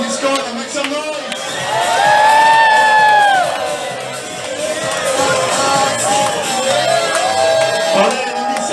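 Large crowd aboard a cruise ship cheers, whoops and shouts loudly in sustained waves, with a voice urging them on amid the din.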